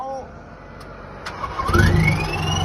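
A turbocharged car engine is heard nearby, with a faint turbo whine at first, then a rising whistle as the revs climb and the engine noise grows louder toward the end.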